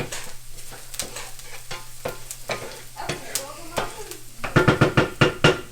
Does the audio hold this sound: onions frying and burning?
yes